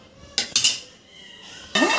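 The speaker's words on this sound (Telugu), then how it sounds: "ఒక కళాయి కానీ సరే ప్యాన్ కానీ సరే అండి మనకు నచ్చినట్టు మనం పెట్టుకోవచ్చు" A kadai or pan set down on a stove, a few sharp metallic clanks and clinks in quick succession, close and brief, with quiet gaps between.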